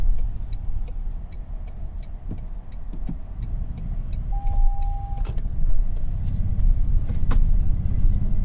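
Interior of a moving 2022 Toyota Tundra TRD Pro hybrid pickup truck: a constant low engine and road rumble, a brief whirring tone, and occasional clicks and thumps.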